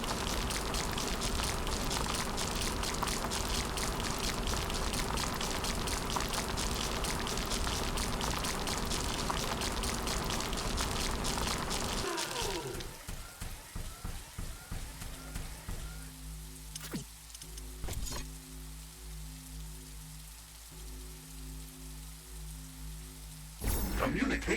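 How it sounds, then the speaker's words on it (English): Dense rain pours steadily in The Riftbreaker game for about twelve seconds, then thins to scattered drops over a low ambient hum, with a sharp burst near the end. "It's raining."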